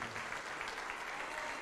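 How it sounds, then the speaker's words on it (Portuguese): A church congregation claps together in steady, sustained applause, heard faint and somewhat distant throughout. "Vamos aplaudir mais ao nome de Jesus."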